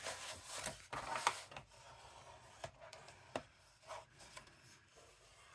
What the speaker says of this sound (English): Burnish those sides.